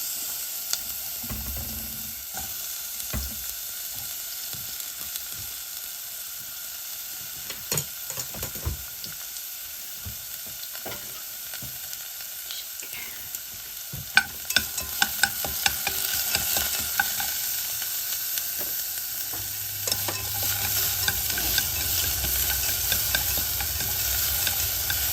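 Onions sautéing in a little rice oil while being stirred, with a steady sizzle broken by scraping stirs and clinks, growing louder and hissier toward the end; no talking.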